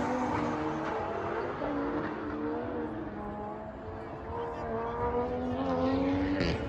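A Toyota Supra drift car at a Formula Drift event drones loudly nearby, its engine note rising and falling through revs with some tire noise over a busy outdoor background.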